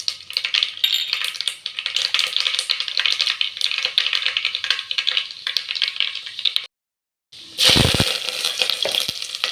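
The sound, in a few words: mustard seeds spluttering in hot oil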